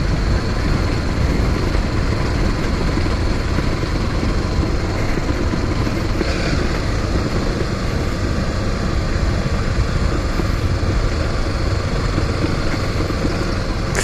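A motorcycle engine strains hard up a hill in a constant, loud, droning roar that continues without a break, mixed with wind rush and no talking.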